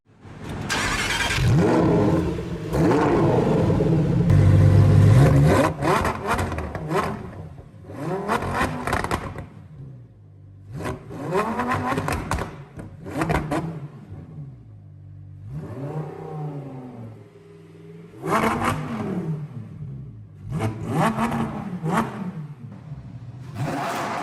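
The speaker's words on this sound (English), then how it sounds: "this car does sound like a rocket. Well, kinda. It sounds really good though. Just take a listen." A 2022 Lamborghini Huracan STO engine revs hard several times in loud bursts, rising and falling with sharp crackles between pauses, close by.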